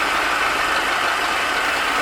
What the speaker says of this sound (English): She's idling just a little bit rough, but I'm going to adjust the carburetor a little bit.